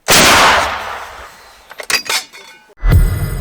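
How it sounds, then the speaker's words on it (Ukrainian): A single loud gunshot blasts and rings out, followed by metallic clinks and rattles, then another heavy boom at the end. "Постріл!"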